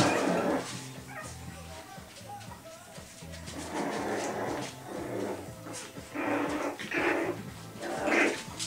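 Young puppies a few weeks old whimper and yip in repeated bursts, close and fairly soft, with a voice talking at times in the background.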